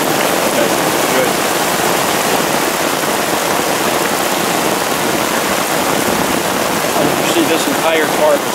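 Heavy rain pours off a tarp into a bucket, making a loud, steady rushing splash that holds constant without a break.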